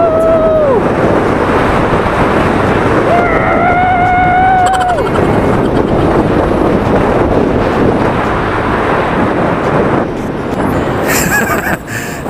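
Yamaha Mio i125 scooter ridden at speed, with loud, steady engine drone and heavy wind rush throughout, the engine pitch rising and falling near the start.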